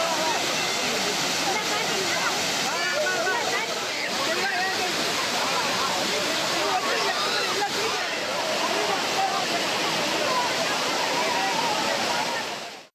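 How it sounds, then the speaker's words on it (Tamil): After heavy rain in the Western Ghats, the swollen Kumbakkarai waterfall pours in a loud, dense, unbroken roar that fills the whole stretch. "அருவிக்கு நீர்வரத்து அதிகரித்து தண்ணீர் ஆர்ப்பரித்து"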